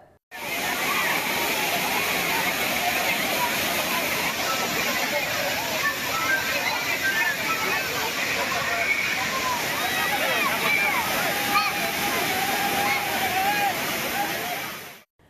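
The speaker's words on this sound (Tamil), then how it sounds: "கன்னியாகுமரி மாவட்டத்தில் தொடர் மழை காரணமாக திருப்பரப்பு அருவியில் தண்ணீர் ஆர்ப்பரித்து கொட்டுகிறது" Water gushes down Thirparappu waterfall in Kanniyakumari district, swollen by continuous rain, making a steady, loud, unbroken roar with faint voices of bathers mixed in.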